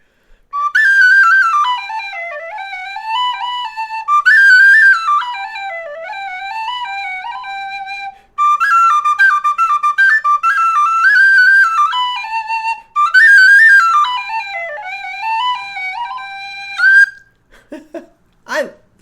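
A Clarke Sweetone high D tin whistle plays the Irish tune The Blackthorn Stick in bright, quick ornamented phrases with brief pauses between, close and clear, ending in a few soft clicks.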